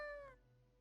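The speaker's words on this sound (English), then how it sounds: "Meow, the cat mutters in contentment." A cat in a video game gives one short, contented meow, clear and close, with a tone that falls away quickly into quiet.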